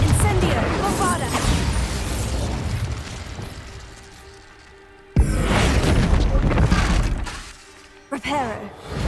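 Confringo, Incendio and Bombarda spell blasts in the Hogwarts Legacy video game, a run of loud shattering bursts and booming impacts with a sharp cut midway and a fresh burst near the end, under a voice talking throughout.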